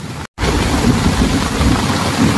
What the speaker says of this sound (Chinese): 下雨下它真的下了